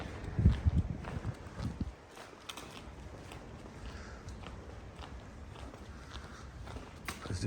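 Footsteps walking toward a small spare-parts storeroom, soft irregular steps close by with some rustling, a heavier thud early on, otherwise fairly quiet and without talk.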